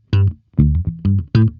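An electric bass played with palm muting gives four short, thick, damped notes in an uneven rhythm, each cut off quickly, close and loud with no other sound.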